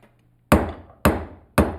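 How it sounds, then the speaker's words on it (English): A silversmith's hammer strikes silver during forging and shaping: three sharp, ringing blows spaced about half a second apart, each decaying quickly, close and loud with nothing else around them. "there's something special about the hammering and shaping of the silver, the forging of it"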